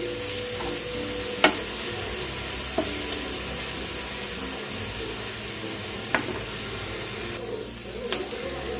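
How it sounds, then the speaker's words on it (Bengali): Onions frying in a pan over a medium gas flame for palak paneer, a steady close sizzle running throughout with a few sharp clinks of a spoon stirring against the pan. "পেঁয়াজটাকে আমি একটু ভালো করে ভাজবো যতক্ষণ না রং ধরে।"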